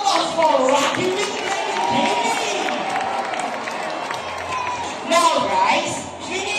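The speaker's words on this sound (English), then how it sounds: "A round of applause for Rocky with" Audience at a bird show at Manila Ocean Park claps and cheers loudly and steadily throughout, with crowd noise and children's voices mixed in and a swell near the end.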